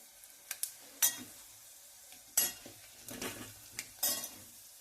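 A tempering for tomato charu crackles faintly in a pan, with scattered clinks of a metal spoon against the vessel and soft bursts of sizzle spread across a quiet background; no talk.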